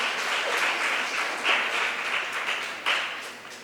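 An audience at a folk dance competition in Varanasi gives sustained applause, a thick continuous clapping crowd that swells in brief surges and then slowly fades.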